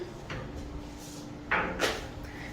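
A frosted glass bathroom door slides open with a soft rolling scrape and a couple of light knocks as it moves, heard close up in a resort suite over a steady room hum.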